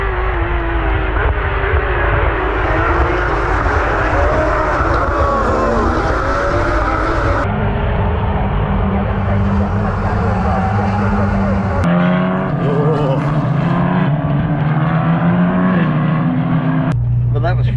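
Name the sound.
Porsche Carrera Cup race cars passing at Thruxton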